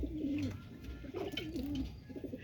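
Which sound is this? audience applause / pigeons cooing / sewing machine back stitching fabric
pigeons cooing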